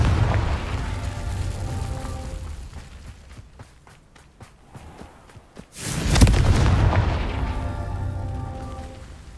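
Confringo fire spell explosion in Hogwarts Legacy: after a quieter stretch of scattered pops, a sudden loud fiery blast erupts and rolls on as a sustained roar through to the end.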